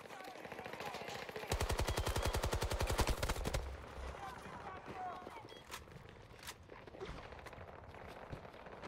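Rapid automatic gunfire from a Battlefield 2042 SMG rush match, a loud sustained burst of evenly spaced shots followed by scattered single shots and battle noise, with voices calling out over the action.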